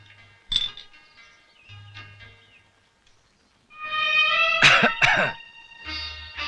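A man coughs in a couple of harsh, close bursts after quieter scattered sounds, with a low tone droning in the background.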